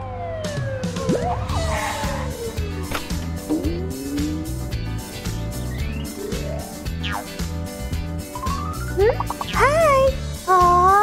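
An ambulance siren wails in rising and falling sweeps over a busy mix of music and other sounds, with a voice chiming in.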